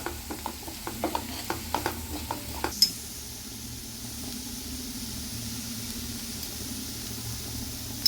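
Masala with pepper powder and a little chili powder sautés in a pan for a paneer sandwich filling, a quiet run of spoon taps and scrapes giving way to a soft, steady sizzle.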